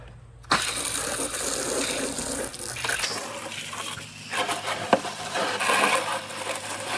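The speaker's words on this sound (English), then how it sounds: "Turn the water on here and clean this thing up a little." Water from an outdoor tap starts with a sudden gush and keeps pouring and splashing steadily during cleanup near a lake-side lawn, with knocks and a sharp clack partway through.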